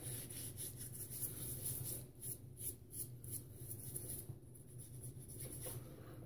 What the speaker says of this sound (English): the rest, we're just gonna just go ahead and rub in as pre-shave